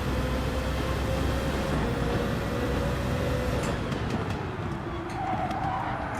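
A racing car in Gran Turismo 7 roars continuously with a steady engine drone, while tire skidding squeals rise near the end of the stretch, loud and sustained with no pauses.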